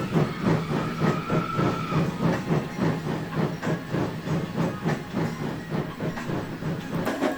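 A steam locomotive chuffs out of the engine sheds, close and fairly loud, with rapid, evenly spaced puffs and a hiss of steam under a rhythmic clatter, and no one speaking.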